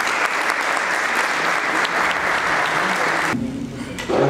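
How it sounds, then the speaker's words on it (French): Sustained applause from an audience at a formal event, a dense even wash of clapping that continues loudly for several seconds before briefly dipping and surging again. "Les applaudissements, s'il vous plaît"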